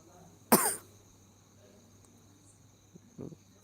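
A single sharp, loud cough from someone with a cold bursts out, followed a few seconds later by a softer throaty cough or throat clearing, over a steady faint hum.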